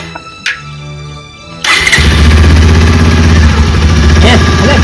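Motorcycle engine starting: a quiet stretch with a couple of short clicks, then the engine fires abruptly and settles into a loud, close, steady running roar.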